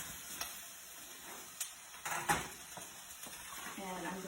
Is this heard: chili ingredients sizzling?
yes